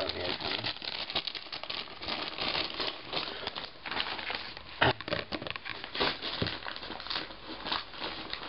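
Crinkly plastic rustling and crackling as a bag is pulled open, close by and continuous, with a few sharper snaps along the way.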